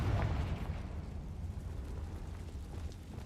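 A Confringo explosive spell goes off in Hogwarts Legacy, a heavy rumbling blast with a strong low-end boom at the start that decays into a sustained roar, loud and close.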